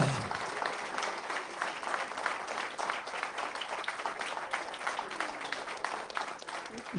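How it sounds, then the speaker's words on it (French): An audience at a round table on organic conservation agriculture applauds the organisers with a steady, dense wash of clapping that lasts the whole stretch at an even loudness. "On peut les applaudir"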